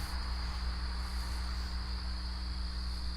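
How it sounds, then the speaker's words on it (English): Crickets chirp in a video game in a continuous, even drone, high-pitched and unbroken, with no voices. "do y'all remember hearing crickets when Vault was on?"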